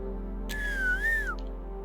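A single long whistle voiced by a man imitates a character's whistle, rising then dipping and sliding down, clear and close over a low steady hum.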